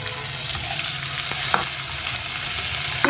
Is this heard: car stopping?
no